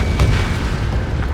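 A missile strikes its target in the Ace Combat 7 flight game, a loud, sustained booming blast that fills the whole moment with dense rumbling.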